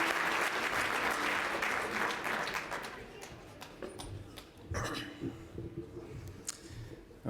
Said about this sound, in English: a round of applause for Kathy, what she does for all of us in the real estate industry